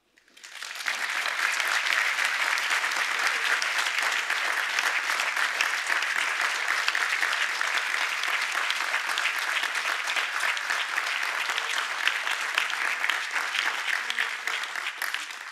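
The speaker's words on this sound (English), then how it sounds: "And we owe her a debt of thanks and a large round of applause." An audience applauds at a university board of governors event introducing a new school, a steady sustained round of clapping that starts abruptly and keeps going for about fifteen seconds with no speech over it.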